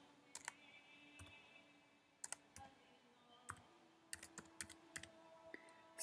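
Password typed on a computer keyboard, quiet crisp key clicks in irregular bursts and single taps, close and alone with a faint background hum.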